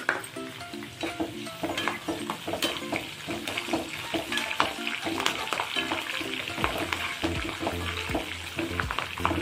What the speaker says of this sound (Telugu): పచ్చిమిరపకాయలు వేగినాయండి. ఇప్పుడు మనం ముందుగా కరివేపాకు వేసేసుకుందాం